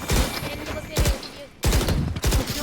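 Rapid bursts of automatic gunfire in a shooter video game, loud and close, arriving in several quick volleys with brief gaps and a voice briefly audible between them.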